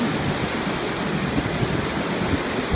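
Ocean waves break at a hotel beach in Hikkaduwa, Sri Lanka, making a loud, steady broadband roar of surf with no pauses and no voices.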